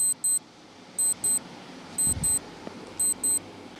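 An on-screen quiz countdown timer sounds paired high electronic beeps, two quick bleeps repeating about once a second over a quiet background, with a soft thump partway through.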